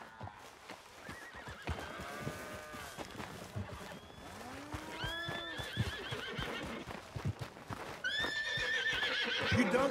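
Horses in the video game Red Dead Redemption 2 neigh and whinny several times over clip-clopping hooves, loud and close, with the calls rising toward the end.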